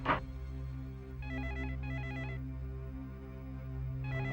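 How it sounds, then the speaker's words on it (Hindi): A telephone rings indoors in a hall, a steady electronic ring in repeated bursts of about a second with short gaps, clear and close over low background hum, with no talking. "हॉल का फोन लग रहा है।"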